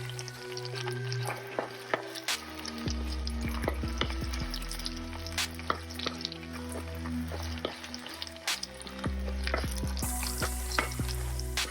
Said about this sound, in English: now we're going to be frying the slime off of this okra